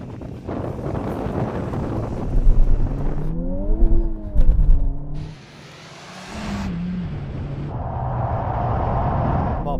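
Drag race cars, one of them a Honda, launch from the start line and accelerate hard, their engines rising in pitch over heavy wind buffeting on the microphone before fading into a steady roar.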